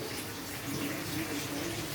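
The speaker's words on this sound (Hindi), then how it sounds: "और इसमें पानी अभी डालना है।" Water is poured into a cooking pot of tinday gosht, a steady, close rushing pour with a hollow filling tone, continuous and even for the whole two seconds.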